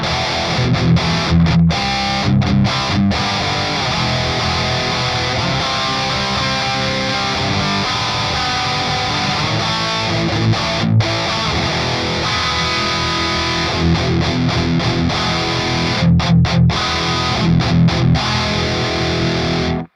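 A heavily distorted electric guitar through an amp simulator plays chords and riffs, thick and saturated, with brief stops between phrases and no voices.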